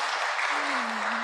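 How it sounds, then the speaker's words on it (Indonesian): Audience applause at a Temanggung gathering on traditional arts, a broad steady wash of clapping with a faint tonal hum or voice running underneath through the second half. "Tepuk tangan sekali lagi yang meriah"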